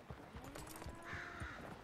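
Horse hooves clip-clopping at a slow walk in Red Dead Redemption 2, a steady quiet rhythm of hoofbeats with faint ambient game sounds.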